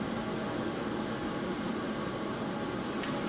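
A home air conditioner runs steadily, giving a loud, constant broadband hum and hiss with no break, and no voices are heard over it.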